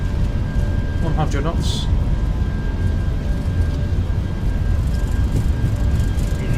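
Airbus A319 engines of a British Airways airliner at night on the runway, a loud steady broadband roar filling the cabin as thrust builds for takeoff, with brief cockpit voices and radio calls over it.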